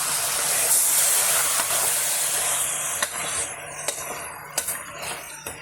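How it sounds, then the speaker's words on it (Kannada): Mutton frying in oil for a country-style sambar, a loud steady hiss of sizzling that fills the clip, with a few sharp pops and spoon clicks near the end. "ಇದಕ್ಕೆ ಹಾಕ್ಕೊಂಡು ಸ್ವಲ್ಪ ಎಣ್ಣೆಯಲ್ಲಿ ಫ್ರೈ ಮಾಡ್ಕೊಳ್ಳಿ."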